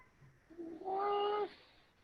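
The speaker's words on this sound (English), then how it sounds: "It was my cat outside the door." A single drawn-out cat meow, tonal and slightly rising, heard faintly as if from beyond a door in an otherwise quiet room.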